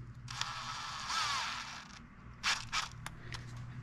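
Screws on a Traxxas Sledge RC car differential being tightened in a star pattern with a driver: a long whirring ratchet scrape, then short clicking bursts, close and quiet with no talking.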